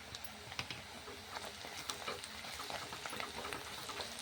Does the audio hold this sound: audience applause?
no